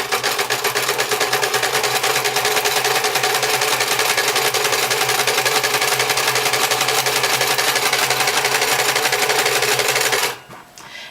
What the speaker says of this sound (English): So then I just start lightly pressing on my presser foot.